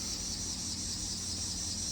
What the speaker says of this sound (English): The cicada chorus.